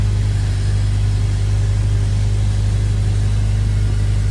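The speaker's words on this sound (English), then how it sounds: "we're going to take this for a quick test drive" A Honda S2000 on a test drive gives off a steady, loud, low engine drone with road rumble from inside the car, unbroken and with no voices.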